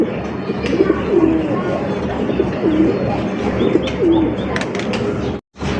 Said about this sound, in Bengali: আরো একজন লক্ষা ভাই লক্ষা কবুতর দেখেন